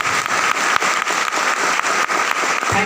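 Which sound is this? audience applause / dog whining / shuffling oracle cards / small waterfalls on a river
audience applause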